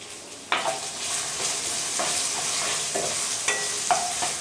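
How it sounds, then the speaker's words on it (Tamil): Spice-coated taro root pieces sizzle in hot oil in a pan and are stirred in a few brisk bursts over a steady frying hiss, close and fairly loud, with no talking. "எண்ணெய் நல்லா சூடாயிட்டு இப்போ நம்ம மசாலா தடவி வச்சுருக்க சேப்பக்கிழங்கை உள்ளே சேர்த்துடலாம்."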